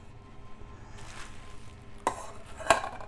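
Metal camping cookware lid set in place on a nested mess kit, giving a couple of sharp, close clinks over a quiet background.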